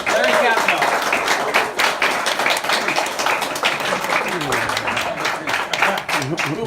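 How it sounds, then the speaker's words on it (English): Audience applause and clapping for the executive producer at a Mortal Kombat film cast and crew event, a dense crowd rattle filling the whole stretch with a voice speaking over it. "let's give a big round of applause to the executive producer, Larry Kasanoff."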